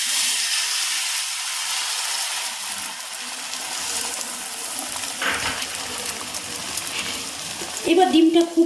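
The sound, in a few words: beaten egg frying in a pan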